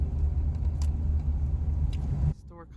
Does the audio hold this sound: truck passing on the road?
yes